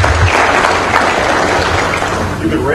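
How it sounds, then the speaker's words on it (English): Audience applause fills a crowded DEF CON 10 hacking conference hall, a dense sustained wash of clapping with low crowd murmur and some voices mixed in throughout. "So give yourself a round of applause."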